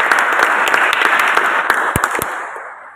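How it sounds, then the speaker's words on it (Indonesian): Applause for a discussion group at a church youth gathering: dense, close clapping from a small audience, loud at first and tapering off near the end, with a few sharp individual claps standing out. "kasih aplaus untuk teman kita grup 1"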